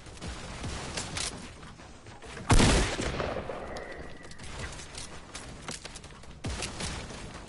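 Fortnite gunfire crackles under gameplay, with a loud burst of shots or an explosion around the middle and scattered sharp shots throughout, fairly close.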